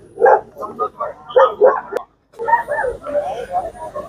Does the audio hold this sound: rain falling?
no